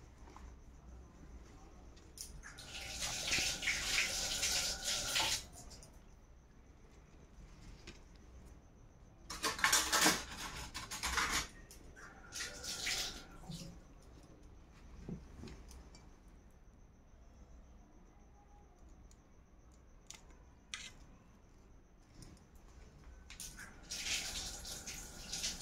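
Food being rinsed under running water, with tap splashes in a few bursts separated by quieter stretches and light clinks of dishes, heard at low level.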